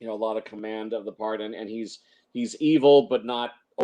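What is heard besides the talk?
None of the usual background noises is heard.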